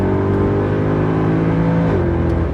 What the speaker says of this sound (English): we accelerated in second gear